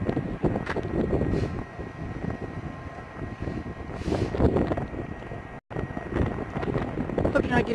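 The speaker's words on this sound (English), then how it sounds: "It's windy today." Wind buffeting a microphone outdoors at a train depot in Winnemucca, a steady rough rumble with gusty swells throughout and a brief dropout near the end.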